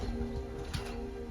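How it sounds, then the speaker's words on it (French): Pigeons cooing inside an abandoned manor, a brief low soft coo rising faintly over a steady background hum, close and quiet. "par là, il y a les pigeons, j'entends."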